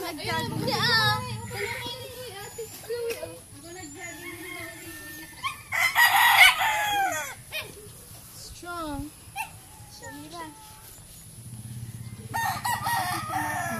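Roosters crow repeatedly amid clucking chickens on a farm, calls fairly close and overlapping, with people talking in the background and a brief burst of hissy noise midway.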